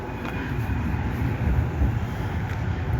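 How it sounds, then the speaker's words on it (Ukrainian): A tram passes on a street in the Netherlands, a low steady rumble and rolling rattle that swells slightly midway and stays fairly close throughout. "Там трамвайчик поїхав."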